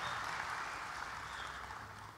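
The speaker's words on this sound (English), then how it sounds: "let's give another round of applause and let them know it" An audience at a national cosplay championship applauds a contestant, producing a soft, dense, steady roar of clapping that sounds distant and fades slightly toward the end.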